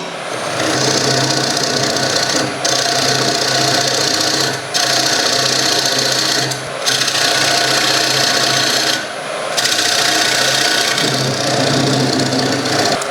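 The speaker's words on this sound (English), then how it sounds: "I'm just going to do that very quickly with the detail tool" Woodturning detail tool cutting a recess with a slight dovetail into a bowl blank on a lathe, a steady continuous scraping hiss with a few brief pauses, close and loud, no talk.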